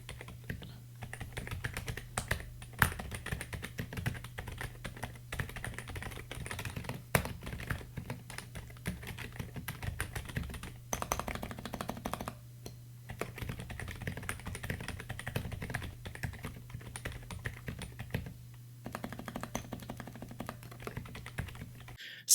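Steady typing on a Skyloong GK87 Pro mechanical keyboard fitted with silent switches makes soft, rapid, muffled keystrokes in a continuous patter, close up over a low constant hum.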